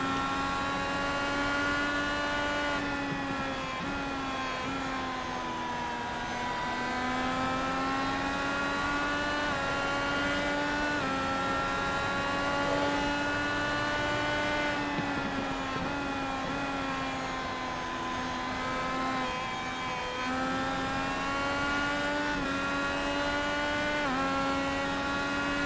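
Steady onboard engine drone from the number 10 race car in the Area 51 Racing Series, with a sustained high rev and slight pitch swells as it shifts and holds speed, continuous and close, no voices.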